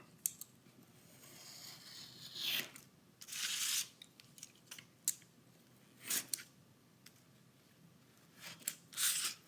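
Scissors snip through paper while cutting out a pump shoe lining pattern piece, scattered close crisp cuts and rustles separated by quiet gaps, faint overall and without talk.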